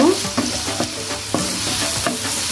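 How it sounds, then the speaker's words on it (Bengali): Onion and garlic browning in oil for a catla fish curry make a dense, close sizzle, with several sharp scrapes of a spoon stirring the pan at irregular intervals and no speech. "তো পেঁয়াজ আর রসুনটা আমি ব্রাউন করে ভেজে নিব"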